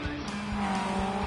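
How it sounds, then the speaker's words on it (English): A race car in Gran Turismo 7 sweeps past with a steady high engine whine and tire noise, loud and close, its pitch holding across the short pass. "Did you hear that car go by?"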